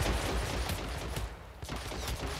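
Enemy gunfire in Hitman Absolution, a rapid dense volley of overlapping shots and cracks that keeps up without pause, loud and close with no voices.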